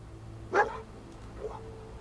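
A dog in a wasteland video game gives a single sharp bark followed by a fainter second yip, both short and set against a low steady background hum.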